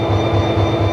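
A Mugunghwa passenger train on the Gyeongjeon line rumbles steadily, heard from inside the carriage, with a rhythmic low clatter of wheels on rail joints beneath a constant high tone.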